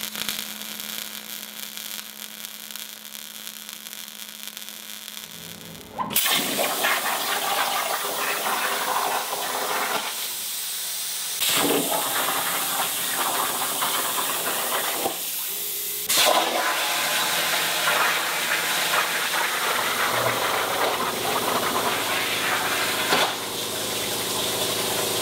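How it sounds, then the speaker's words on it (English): Arc welding runs along the seams of a steel safe box in long, steady crackling stretches with brief breaks between passes, close and loud, over a constant electrical hum. "I welded solid all the seams."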